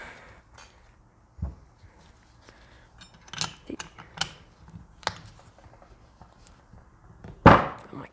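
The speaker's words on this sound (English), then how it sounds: "put your wrench on there" A wrench clicking and clunking on a Porsche 944 power steering pump during a rebuild, a few sparse metallic ratchet ticks and thunks, close and fairly quiet, with short pauses between.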